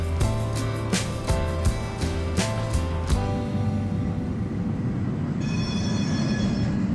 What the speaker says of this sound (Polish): można zobaczyć współczesne pociągi metra, które wyjeżdżają z tunelu od strony Porto i jadą powoli